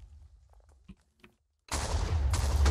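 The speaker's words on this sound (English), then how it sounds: "I keep hearing these cannons, but like they never hit me." Cannon fire in a Minecraft-style competitive team match, heard as a sudden loud burst of booming blasts that keeps rolling on after a quiet stretch of faint game sounds.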